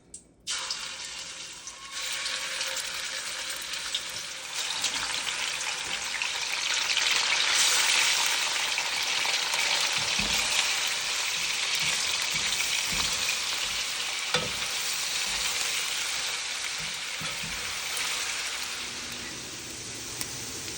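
Pork sizzles and fries in hot oil in a pan for pork binagoongan, a loud, continuous crackling hiss that swells and holds, with a few faint utensil knocks and no talking.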